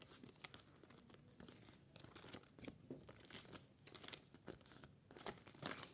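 Crinkly paper rustling and tearing in quick bursts, close by, as packets are handled and pulled open with brief pauses between.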